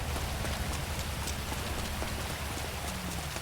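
Steady rain falling inside a video game, a dense, even hiss of drops on surfaces that runs unbroken through the whole stretch, with no voices over it.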